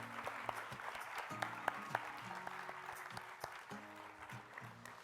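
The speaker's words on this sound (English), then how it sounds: "One final round of applause for our wonderful," Applause for graduating Year 13 students at a secondary school graduation ceremony, a steady wash of clapping from a large audience that carries through the whole stretch, with a low musical tone droning faintly underneath.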